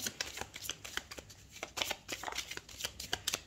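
Tarot cards being shuffled and drawn for a weekly Pisces reading, a steady run of crisp riffling snaps and soft card slaps, close and fairly quiet with no talking.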